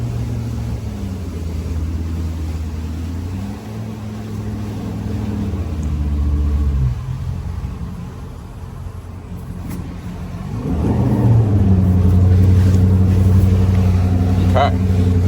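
Engine of a 2024 Nautique Ski 200 boat running at steady throttle, a continuous low drone that rises in level and pitch toward the end, with a voice talking over it.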